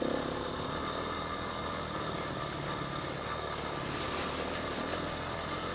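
A dirt bike engine runs steadily on an off-road ride, its broad, continuous drone holding at a constant level throughout with no talk.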